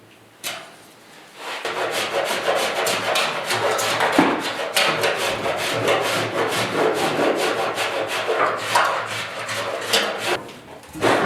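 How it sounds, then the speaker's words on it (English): A sander works over the bodywork of a 1969 Ford Bronco during interior rust repair, giving a loud, continuous rasping scrub that runs steadily for about ten seconds after a brief quiet start. "I'll get out the sander."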